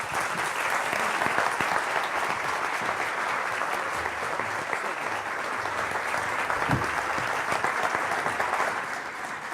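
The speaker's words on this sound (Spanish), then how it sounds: "Más fuerte el aplauso entonces" Sustained applause from a seminar audience fills the room at a steady, dense level throughout, with no speech over it and a slight fade at the very end.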